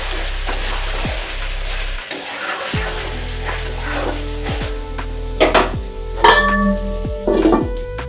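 Chicken lababdar with capsicum cooks in hot oil in a pan, giving a steady close sizzle. Stirring scrapes and occasional metallic clinks of a utensil against the pan sound over it, with no talk.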